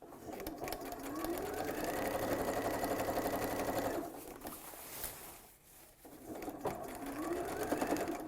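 A sewing machine stitches a facing onto fabric in two long steady runs of rapid mechanical whirring, pausing briefly in between, close and loud.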